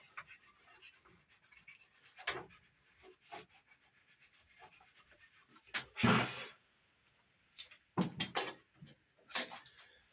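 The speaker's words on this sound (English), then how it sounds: "metal yardstick, or a straight edge like this. And then take it and rub it along" A metal yardstick rubbed along wooden stock gives quiet scraping strokes, several brief rasps early on, then louder, longer rubs near the end, close and alone.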